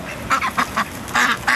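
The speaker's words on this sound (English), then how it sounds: "he's gonna go after one of those ducks" Ducks at a park quack in short, loud, nasal bursts, about five calls spaced irregularly across a moment, close by with no talk over them.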